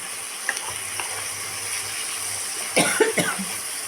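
A few quick coughs near the end, close and distinct, over a steady sizzling background; a fainter cough-like burst earlier.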